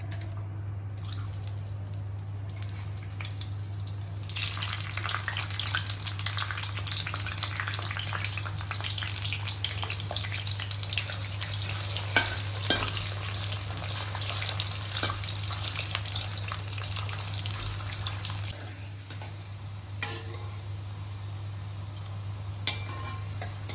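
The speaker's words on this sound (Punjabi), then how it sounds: "ਦੂਜੇ ਜਿਹੜੇ ਕਰੇਲੇ ਬਾਕੀ ਦੇ ਉਹ ਵੀ ਆਪਾਂ ਇਸ ਤਰ੍ਹਾਂ ਫਰਾਈ ਕਰ ਲੈਣੇ ਆ" Stuffed bitter gourds (karela) frying in a pan: a steady crackling sizzle begins after a few seconds of quiet and continues with occasional stirring knocks, all over a constant low hum.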